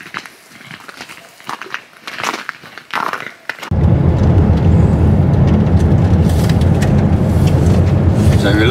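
Car driving along a forest road in Sweden: a steady, loud broadband rumble of engine and road noise starts abruptly partway through and continues evenly, after a stretch of quieter outdoor sounds with faint footsteps and voices.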